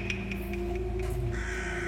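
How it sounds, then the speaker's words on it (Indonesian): A crow caws repeatedly in a steady series of harsh calls, fairly close and clear, over a constant low background hum with no speech. "bawa gagak dia, burung gagak"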